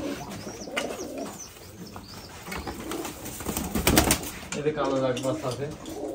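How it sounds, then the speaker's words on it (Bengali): Giribaz pigeons with chicks in a farm loft coo repeatedly in soft, throaty bursts at close range, with occasional chirps and a voice talking faintly underneath. "এখানে কিছু কবুতর আছে দেখতে পাচ্ছেন"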